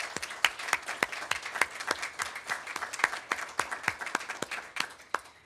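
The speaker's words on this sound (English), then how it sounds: "Please join me in giving them a round of applause" Applause at an annual council meeting comes from a modest group, so individual claps stand out as distinct, fairly rhythmic strikes over a lighter bed of clapping, moderately close and without speech.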